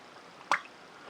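Ink bubbles as the plunger of an Onoto 2000 self-filling fountain pen is pushed down with the nib immersed. A single quiet, wet plop pops once against near silence.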